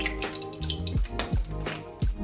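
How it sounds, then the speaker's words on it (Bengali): Oil is poured into a kadai (wok) after frying taro, for a hilsa, taro and eggplant dish: a brief close run of liquid glugs and drips. "কড়াইয়ে তেল অ্যাড করছি,"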